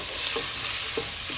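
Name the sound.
smoked paprika sizzling while cooking in pot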